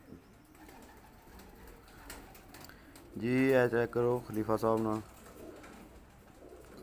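Pink-ringed Teddy pigeons in a breeder's loft in Islamabad coo in a close burst of several rolling, pulsing calls, preceded and followed by quiet talk.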